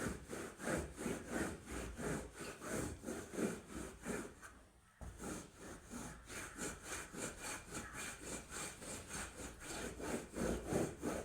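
Wet cloth held on a handled scrubber rubbed back and forth over a sofa carpet, a steady rhythmic scrubbing swish repeating about twice a second with one brief pause, close but fairly quiet.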